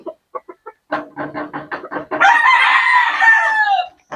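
Backyard chickens close by after a hen laid eggs, with a run of short rhythmic clucks building into a loud drawn-out cackle.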